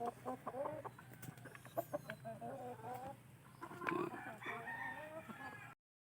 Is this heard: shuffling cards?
no